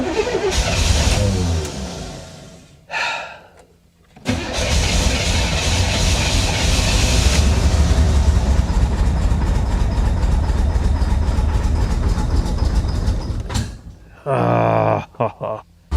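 A smoking, long-abandoned Chevrolet Corvette from a Florida swamp runs with its pedal held to the floor, a loud, sustained roaring engine broken by brief dips and cutting out near the end.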